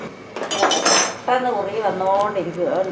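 A metal spoon clinks and scrapes in a pan as carrot halwa is stirred Kerala-style, with sharp repeated clatter at first and a voice talking over the later stirring.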